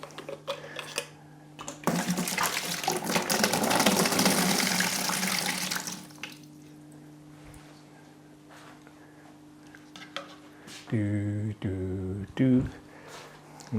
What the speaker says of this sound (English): In fact, I'll change the water.